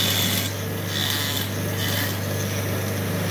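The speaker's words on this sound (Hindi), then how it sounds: "ये आगे जो आप ग्राइंडर चला रहे हो" A hand grinder works a wooden elephant carving in a rural Jaipur handicraft workshop, giving a steady close rasping and rubbing with a constant motor hum underneath, with no talk.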